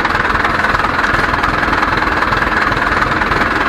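A car engine running at idle during a mechanic's electrical check, a loud, close, steady rumble with a fast even throb and no other sounds.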